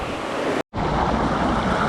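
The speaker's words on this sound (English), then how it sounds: "here in the pool enjoying this big tidal wave that it generates and pushes towards you" Wave pool at Siam Park generating a big tidal wave, a loud continuous rush of surf and churning water with wind buffeting the microphone, broken by a brief dropout before resuming, no talk.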